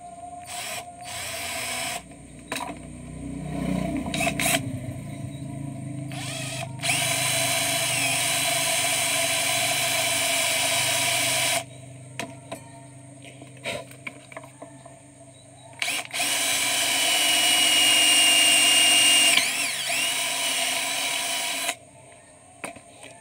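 A hole is drilled through a metal part for the waste valve of a 2-inch swing-type hydram pump, the drill whining in long continuous bursts broken by short pauses and clicks, fairly close.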